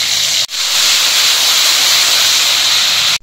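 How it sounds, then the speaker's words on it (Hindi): Ginger-garlic paste hits hot butter with browned garlic for malai chicken, giving a loud, steady hiss that fills the whole stretch, broken only by two brief dips where the sizzle drops out for an instant. "अब हम इसमें ऐड कर देंगे 1 टेबलस्पून अदरक लहसुन का पेस्ट।"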